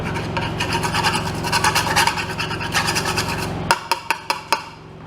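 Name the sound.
wire brush on a drill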